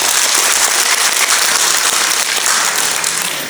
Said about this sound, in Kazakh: Бір қол шапалақтап қойыңыздаршы марқұмды.